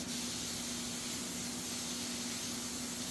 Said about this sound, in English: We have some spray oil.